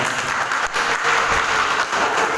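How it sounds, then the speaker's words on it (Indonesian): A crowd applauding steadily, dense clapping that holds at an even level throughout with no voices over it. "beri tepuk tangan untuk Mbak Nisa dan Mbak Tia."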